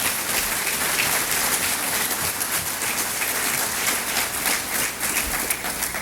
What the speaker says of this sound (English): Let's give Walker another round of applause here.